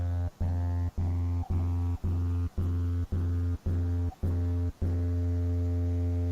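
A Serum synthesizer patch with a hyper effect, EQ, distortion and compression plays a sustained, buzzy harmonic chord chopped into evenly spaced pulses, around ten rhythmic stabs with brief gaps, clean and loud with no talking.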